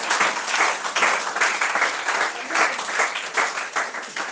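Church congregation applauding in praise during a service, a dense and steady wash of many hands clapping for several seconds, with a faint murmur of voices underneath.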